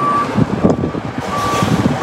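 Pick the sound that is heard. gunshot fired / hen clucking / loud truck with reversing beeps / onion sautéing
loud truck with reversing beeps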